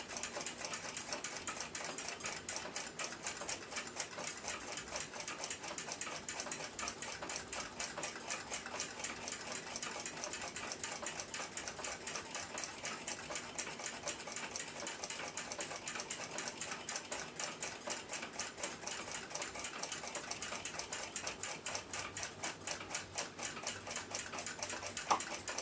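An Omega 8-day chronograph movement, calibre 110 with 15 jewels, ticks with a fast, even, close-up rhythm from its freely swinging balance wheel, quiet and unbroken for the whole span.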